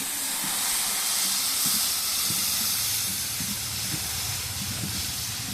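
Steady, loud hiss of mustard paste sizzling in hot oil, a continuous broadband spitting that holds level throughout with no voices.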